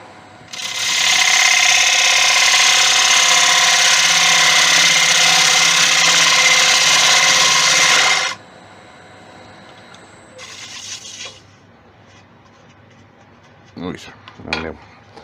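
A wood lathe spins a Tigerwood blank being hollowed, giving a loud, steady high whine for about eight seconds before cutting off, followed by quieter scattered clunks and scrapes.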